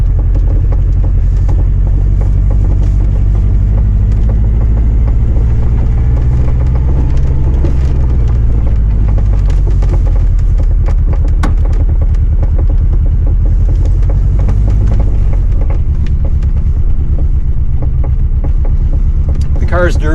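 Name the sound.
Ferrari 308 QV driving across a gravel yard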